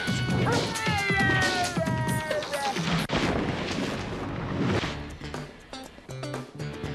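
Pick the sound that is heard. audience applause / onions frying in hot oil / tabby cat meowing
tabby cat meowing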